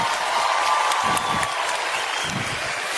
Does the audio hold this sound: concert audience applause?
yes